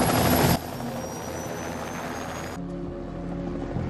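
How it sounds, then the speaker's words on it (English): Helicopter from the horror film The Thing (2011), a loud broadband rotor and engine roar that drops sharply in level partway through, then continues as a steadier lower drone. "Stop the damn helicopter!"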